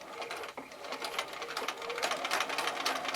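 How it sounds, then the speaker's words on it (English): A sewing machine runs steadily through a scant quarter-inch seam on quilt triangle pieces, a dense, continuous rapid stitching whir that carries on alone from start to finish at close range. "you might want to sew a scant 1/4 inch seam, as this helps with accuracy"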